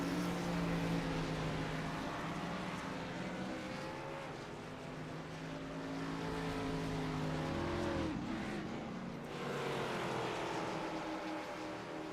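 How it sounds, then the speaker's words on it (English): Race cars pulling out of pit lane at Chicagoland Speedway in the iRacing game, a continuous loud engine drone with shifting pitch as the cars accelerate and pass. "As you see these cars pulling back out of pit lane here."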